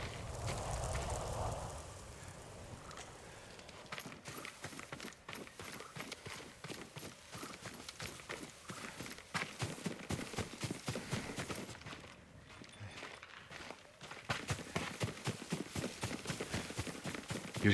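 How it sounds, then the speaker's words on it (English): Horse hooves clip-clop in the Ghost of Tsushima video game, a rhythmic run of clear hoof strikes that slows and quickens, fairly close and moderately loud, with crackling fire-like ambience early on. "Yuriko's horse. She can't be far."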